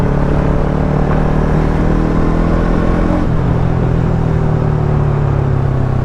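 A Bajaj NS 200 motorcycle with a modified exhaust runs at close range, a loud continuous rumbling drone whose pitch shifts partway through as the engine revs, steady throughout with no voices.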